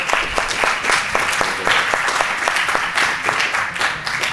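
Audience applause at a science congress talk, a steady wash of many hands clapping with sharper individual claps standing out, sustained and fairly loud throughout.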